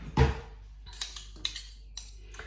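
A spoon scrapes butter off another utensil while baking gluten-free carrot cake cupcakes: one sharp metallic clink, then several light taps and scrapes of metal against metal, close and fairly quiet.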